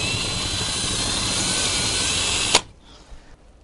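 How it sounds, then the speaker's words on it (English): A loud, continuous high-pitched whine of a drill boring a hole about 40mm deep into a masonry wall, cutting off abruptly, followed by brief quiet handling sounds. "we're going to drill a hole into the wall approximately 40mm deep"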